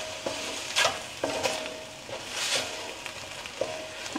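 Food fries in a pan with a soft continuous sizzle, broken by several sharp clinks and scrapes of a utensil stirring.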